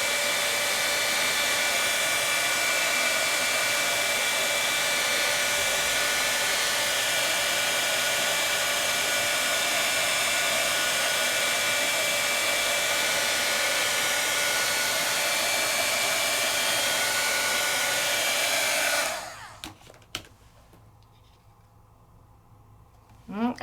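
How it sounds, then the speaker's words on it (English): A heat tool blasts hot air over ink in a steady loud whoosh for about twenty seconds, then switches off to near silence with faint handling noises, a voice talking over it. "as I move my heat tool"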